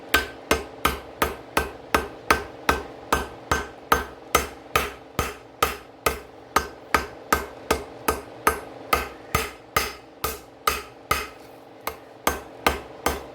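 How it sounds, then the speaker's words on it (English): Rapid, evenly spaced hammer blows ring out on metal on an anvil while forging a karambit, dozens of sharp clanging strikes in a steady rhythm, close and loud, with a brief pause near the end. "I want to do this without crashing my hammer off the face of my anvil."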